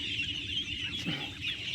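Fourteen-day-old ducklings on a duck farm keep up a constant chorus of high, thin peeping calls, many overlapping at once at moderate volume, with no talking.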